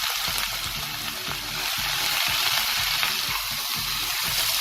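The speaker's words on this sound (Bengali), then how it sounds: "এবার আমি এতে জল ঝরিয়ে রাখা কিনোয়াটা অ্যাড করে দেবো।" Drained quinoa tipped into fried onions sizzles loudly and steadily in the pan, a close, continuous crackling fry with faint stirring underneath and no talk.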